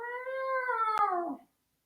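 A cat meows at a gas station in one long, loud, drawn-out cry that slowly falls in pitch, broken by a short click partway through, then silence.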